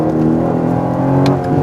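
A 2017 Aston Martin DB11 V8 engine revs hard with a loud, steady, racy drone close by, broken near the end by a brief sharp crackle from the exhaust.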